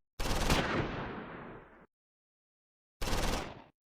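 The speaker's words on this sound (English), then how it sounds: "Second Platoon's medium machine gun opens up." Medium machine gun firing in Close Combat 4, a WWII Battle of the Bulge game set at Wiltz: a long sustained burst, then a pause and a second shorter burst, loud and close with abrupt cut-offs.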